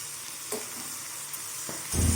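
Chopped brinjal sautéing in a pan on medium flame, a soft steady sizzle with a few stirring scrapes and a louder burst of frying near the end.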